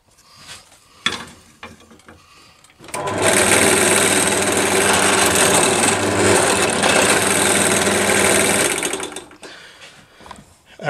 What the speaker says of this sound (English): I need to just deburr this end, like so.